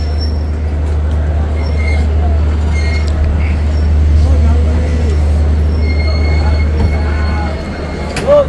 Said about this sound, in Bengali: আর এদিকে up Sealdah Malda town Gaur express এলো